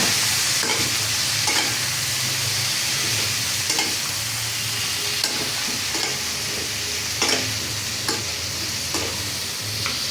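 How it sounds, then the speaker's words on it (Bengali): Cauliflower pieces with a little turmeric and salt fry in a pan while being stirred: a steady close sizzle runs throughout, broken by repeated scraping and knocking of the spatula against the pan. "সুন্দর করে ফুলকপিটারে ভাজা নিব।"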